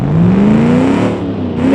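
In the driving game Automation, a heavy 2.5-ton land yacht's 300-horsepower engine revs up in one long, loud rising drone, dipping briefly near the end before climbing again, alone with no talk.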